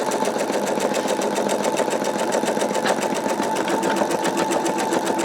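An embroidery machine stitches an in-the-hoop wallet, giving a loud, steady, rapid needle clatter that runs without a break from start to finish, close to the microphone and free of talk.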